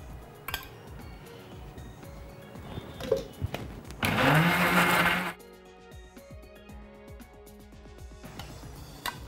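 A kitchen blender whirs loudly for about a second, blending eggplant, garlic and tahini, framed by quieter clatter and handling noises before and after.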